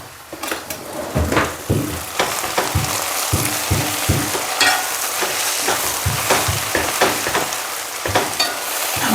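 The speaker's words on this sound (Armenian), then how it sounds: "այստեղ թող գազարը լավ տապակվի" Chopped carrots fry in melted fat in a pan, a constant sizzle broken by repeated scraping and clacking stirs at an uneven rhythm, close and loud, no talk.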